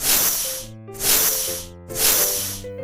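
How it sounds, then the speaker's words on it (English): Three loud bursts of snake hissing, each a broad airy hiss lasting about half a second with brief pauses between, set over a soft musical backing. "snake,"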